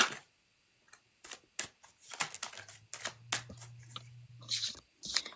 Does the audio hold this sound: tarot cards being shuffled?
yes